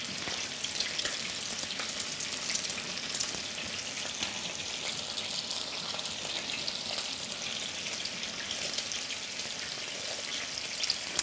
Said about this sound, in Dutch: En deze gaan nu in het kokende water